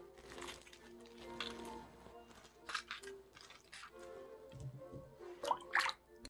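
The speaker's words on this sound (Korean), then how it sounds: "물기를 꼭 짜도록 할게요." Soaked ingredients weighing about 200 g are squeezed firmly by hand in a home kitchen, giving close, wet squishing and irregular drips and trickles of water that come in short bursts.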